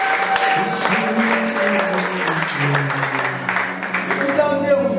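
A church congregation gives a round of applause, steady dense clapping throughout with voices mixed in.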